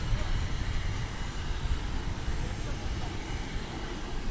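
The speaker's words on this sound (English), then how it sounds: "Here comes another American Eagle flight. This one from Corpus Christi in Texas. It's another Embraer 175." American Eagle Embraer 175 regional jet at DFW Airport, a steady broadband engine roar with no breaks, fairly loud and close, under faint talk.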